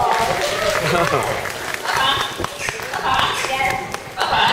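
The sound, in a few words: applause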